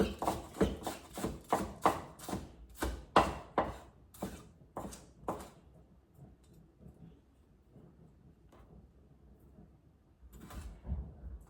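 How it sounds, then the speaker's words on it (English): Green onion being chopped quickly with a knife on a board, a fast run of sharp, evenly spaced chops for about five seconds, then a quiet pause and a few more faint taps near the end. "I will chop like one green onion quickly"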